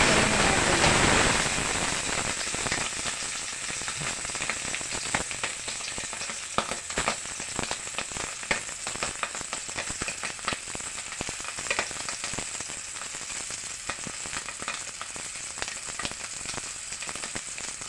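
Egg and fried rice fry in a pan, giving a steady, dense sizzle and crackle that starts loud and settles to an even hiss with small pops throughout, close by and with no talk.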